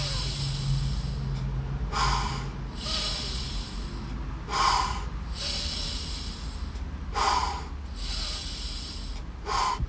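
A person demonstrates a rapid breathing exercise, with loud, forceful breaths through the nose and mouth repeating at a steady pace close to the microphone, with no talk.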